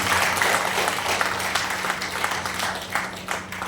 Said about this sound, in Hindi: एक बार जोरदार तालियां उसकी अनुपस्थिति में हो रही है